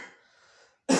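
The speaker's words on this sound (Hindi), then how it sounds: "क्षमा चाहते हैं, अभी भी खांसी है।" A single sharp, loud cough bursts in at the very end after a stretch of faint breathy background noise, close to the mic.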